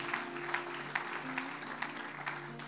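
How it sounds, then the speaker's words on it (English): A church congregation claps together, a fairly quiet, rhythmic patter of hands in a hall over a sustained organ-like tone, with faint talk mixed in. "If you're going to clap, church, let's do it properly."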